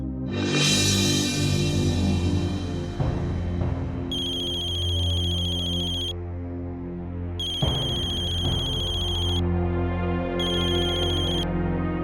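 A phone ringtone plays loud and steady in a repeating electronic melody, sounding in three long bursts over a sustained tonal bed from a dramatized TV crime show scene, with no talking.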